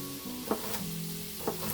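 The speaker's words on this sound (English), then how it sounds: "get that cooking just in a little bit of olive oil" Onions and garlic sizzling in a little olive oil in a pan while a tomato pasta sauce gets started, a steady close frying hiss with a couple of brief stirring clatters.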